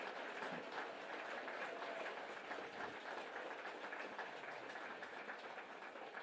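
A crowd at a speech in Kraków applauds continuously, making a dense, even patter that holds steady throughout without any speaking.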